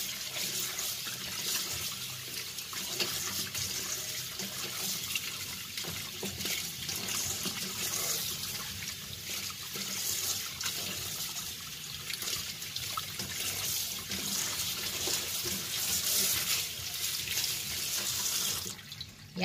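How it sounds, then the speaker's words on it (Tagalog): Tap water runs steadily into a sink while squid is washed, a continuous close splashing flow with faint clatter and no voices. "Tapos, hugasan ulit natin"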